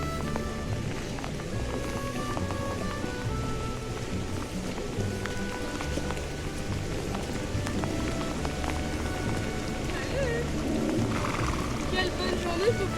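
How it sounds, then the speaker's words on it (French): Heavy rain pours steadily during a walk, a dense, continuous patter at constant loudness, with a low rumble underneath and a voice speaking briefly over it. "là ça flotte un max là"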